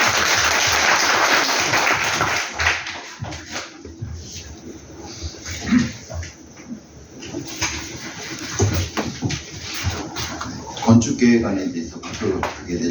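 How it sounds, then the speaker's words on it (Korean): An audience at a redevelopment project briefing claps in a brief burst of applause that fades out. A speaker then talks over a PA system with light room noise. "박수 한번 부탁드리겠습니다."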